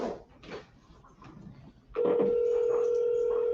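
A telephone call rings out to a business: after some muffled sounds, a steady electronic ringing tone starts partway through and holds loud and unbroken to the end.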